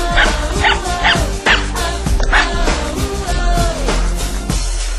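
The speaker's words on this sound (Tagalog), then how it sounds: "At may alaga po silang aso. At kami po ay, dahil hindi po kami kilala, sila po ay kumakahol sa amin." Several dogs bark and yip in quick, overlapping bursts close by, loud and excited, with a few higher whimpering yelps mixed in, on Sibale Island, Romblon, Philippines.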